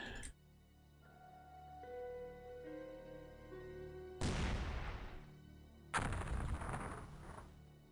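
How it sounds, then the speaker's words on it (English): Mortar fire in the video game X-Com Files: a few soft tonal interface beeps, then two loud, booming blasts with roaring tails, about two seconds apart. "Mortar is loaded."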